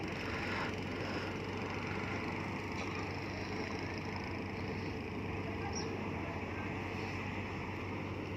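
Fishing boat engine on the Pattani River, a faint steady low drone with a constant hum, heard from a distance under open-air wind and water noise.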